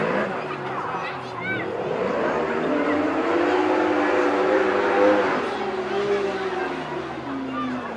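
Speedway sidecars race round the final bend at Leicester during the British Sidecar Speedway Championship, their engines roaring loudly and continuously, rising and falling beneath a commentator talking over them.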